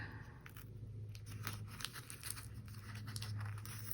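A planner sticker is picked and peeled at by fingernail, giving soft scratchy crinkles and short tearing ticks up close, quiet and intermittent.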